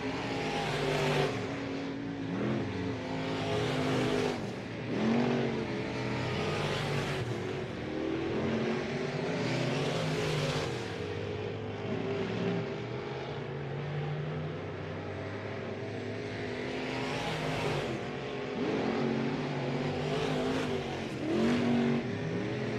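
Race cars roar around Southern Oregon Speedway, a continuous loud engine drone with repeated swells and fades as cars pass and accelerate through the turns, with no talk.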